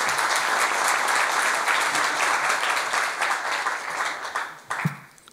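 An audience at a military chaplaincy seminar applauds loudly and densely to welcome a speaker, and the clapping thins out and fades over the last second.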